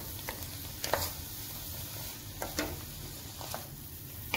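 Onion frying in a pan, a steady low sizzle with a few brief scraping stirs scattered through, close and fairly quiet, no voices.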